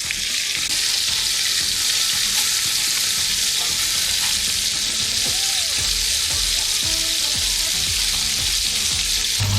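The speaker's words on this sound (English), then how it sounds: "we will turn upside down the meatball to let them cook also on the other side" Meatballs frying in a hot pan, steady dense sizzling, loud and close, with occasional faint scraping and stirring sounds underneath.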